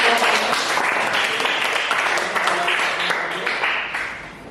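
A classroom audience applauds steadily after a group presentation, a dense wash of clapping hands that holds strong throughout and fades slightly at the end.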